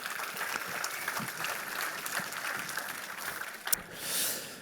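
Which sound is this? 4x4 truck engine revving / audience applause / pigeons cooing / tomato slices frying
audience applause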